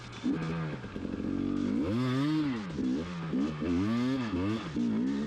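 A KTM 250 EXC dirt bike engine revving up and down repeatedly, loud and close, with rising and falling engine pitch in quick bursts and no talk.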